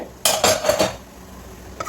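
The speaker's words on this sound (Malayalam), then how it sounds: "നമുക്ക് കുക്കർ മൂടി തുറന്ന് നോക്കാം" The metal lid of a pressure cooker holding cooked lentils for pradhaman payasam is lifted off, with a few sharp, close clanks and clatters of metal on metal in quick succession, then quiet.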